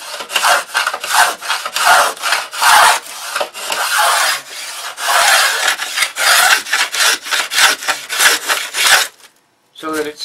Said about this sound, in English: I'll be sanding with a long 30-inch sanding bar.